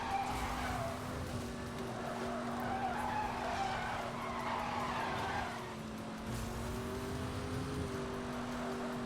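Car in Need for Speed: Hot Pursuit (2010): a steady engine hum under long, sustained tire skidding and squealing that continues nearly throughout, loud and close.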